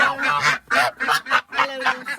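Ducks calling in a series of loud, close, nasal honking quacks in uneven bursts with short gaps, several birds overlapping near the coop as they are let out in the morning.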